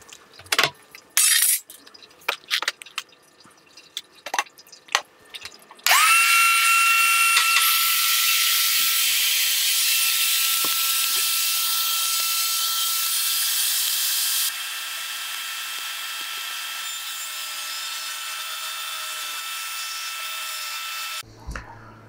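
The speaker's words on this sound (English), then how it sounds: "Let's get the table saw here." A table saw runs up with a sharp whine and cuts through plywood, sustaining a loud high buzz that drops in level partway through before it stops abruptly, preceded by a few scattered clicks and knocks.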